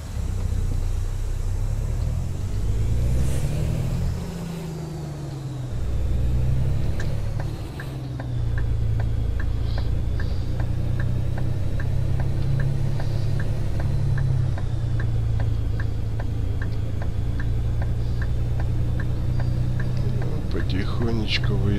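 A truck engine in American Truck Simulator drones low and steady as the rig slowly pulls away, with a rhythmic ticking like a turn indicator running through most of it.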